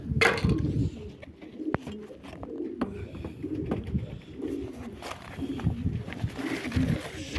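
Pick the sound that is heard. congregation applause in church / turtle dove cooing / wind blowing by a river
turtle dove cooing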